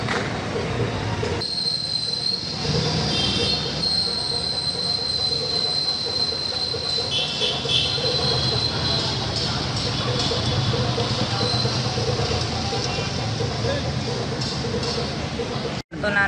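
A train runs close by near Secunderabad railway station in India, wheels squealing and a steady rumbling roar of rail cars continuing loudly throughout.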